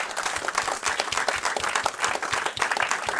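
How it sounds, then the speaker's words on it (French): A small audience claps in a brisk, rhythmic burst of applause, steady and fairly close throughout. "Des applaudissements, messieurs."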